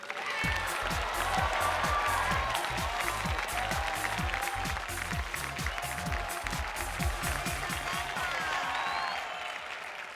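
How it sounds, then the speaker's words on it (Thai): Audience at a Thai talk show breaking into steady, dense applause to welcome a guest, a sustained wash of many hands clapping at moderate distance with no break. "ขอเสียงปรบมือต้อนรับ"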